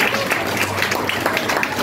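Congregation in a church applauding together, a steady dense wash of clapping over about two seconds with a faint voice underneath.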